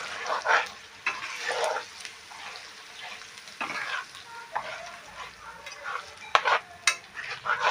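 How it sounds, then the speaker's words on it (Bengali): A spice paste of ginger and mixed spices is stirred and fried in oil in a pan for Kashmiri dum aloo, giving an intermittent sizzle with irregular scraping strokes and occasional utensil clicks against the pan. "মশলাটা ভালো করে কষিয়ে নেব"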